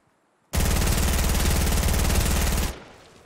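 SMG gunfire in Fortnite Battle Royale rips out as one loud, unbroken burst of rapid shots lasting about two seconds. It starts abruptly after silence and trails off into a fading echo.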